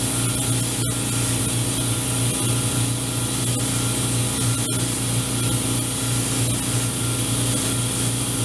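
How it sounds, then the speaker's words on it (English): A clean airbrush sprays paint onto HO scale model railroad cabooses, a steady close hiss running without break over a constant compressor-like drone. "Working a lot better now with the clean airbrush."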